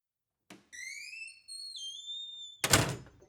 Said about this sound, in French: Une fois la lourde porte fermée